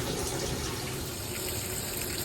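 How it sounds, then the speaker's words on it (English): Tap water runs steadily at close range while excess dye is rinsed out of a Rikusenfuku, a Japanese uniform, in a sink, giving an even, continuous splashing rush with no talk. "you just want to rinse it off as much as possible to get that excess dye off"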